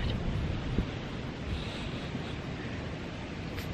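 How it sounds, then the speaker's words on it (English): Strong outdoor wind on a day under a wind advisory roars steadily across the microphone, a dense, continuous rushing buffet with no speech. "The wind is blowing."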